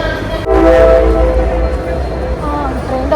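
A metro train hums and rumbles close by at a station in Egypt, a steady low drone with brief tonal whines over it.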